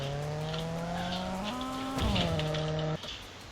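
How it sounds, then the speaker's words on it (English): In a racing video game, a car drifts on a dusty desert track, its engine note rising in steady tones with a tire squeal as it slides, close and continuous, ending abruptly. "So you want to start a drift right there."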